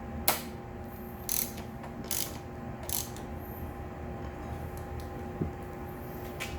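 A ratchet wrench tightens the handlebar bolts on a Mega Moto 212 minibike, several short bursts of clicking spaced about a second apart, close and fairly quiet.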